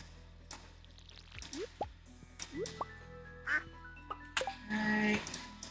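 Short, faint duck quacks in Stardew Valley among chirpy game effects, drips and tonal blips, scattered irregularly against a quiet background.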